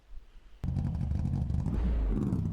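Race car engine in the rFactor 2 racing game, a low droning rumble that kicks in abruptly after a brief quiet moment and holds steady and loud to the end.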